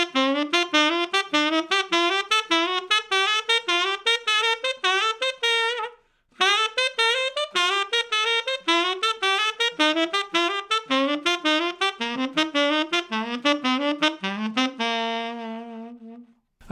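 A long, fast stream of articulated notes runs through a triplet enclosure exercise on a reed instrument in an articulation lesson, broken by one brief breath pause and ending on a held note; close, even and unaccompanied.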